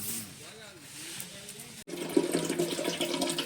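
Water pours and splashes into a vessel at close range as it is filled. A quiet trickle gives way after a brief cut to a louder, busier gush, with voices talking faintly in the background.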